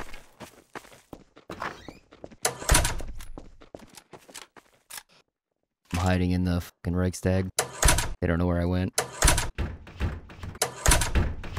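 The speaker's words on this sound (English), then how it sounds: "There's doors opening and closing all around me." Doors open, close and thunk shut in a Garry's Mod roleplay map, sharp knocks and slams scattered among loud talking from nearby players.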